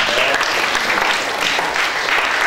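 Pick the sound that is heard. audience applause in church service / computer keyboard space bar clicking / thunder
audience applause in church service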